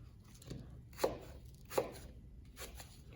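A knife chopping apples into chunks on a board, three or four distinct cutting thuds spaced under a second apart, close but fairly quiet, no talking.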